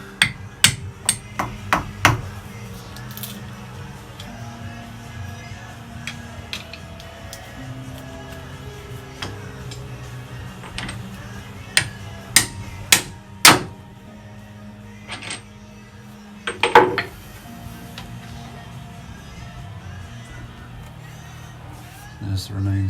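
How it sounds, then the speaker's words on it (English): A hammer taps through a greasy cork on a homemade still engine, with sharp irregular metallic strikes, some in quick clusters, over a low background hum. "see if I can tap through one of my greasy corks"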